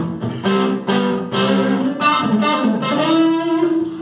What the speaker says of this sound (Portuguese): a gente já vai ter um som meio distorcido